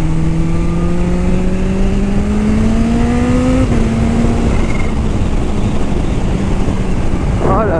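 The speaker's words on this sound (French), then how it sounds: "Oh là là, cette moto, j'en rêvais" A new motorcycle on fresh tires is ridden, its engine droning loud and close as the pitch climbs steadily through a gear, then settles, with heavy wind rush over the microphone throughout.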